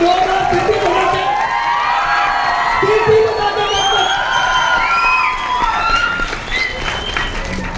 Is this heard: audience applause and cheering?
yes